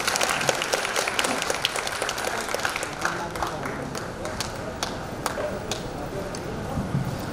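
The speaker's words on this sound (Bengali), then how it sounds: "আমরা জোর করে হাততালি দিতে হবে।" A crowd at a cultural function marking the centenary of the Ramakrishna Ashrama in Dinajpur claps continuously, many hands producing a busy patter of sharp claps with a faint murmur beneath.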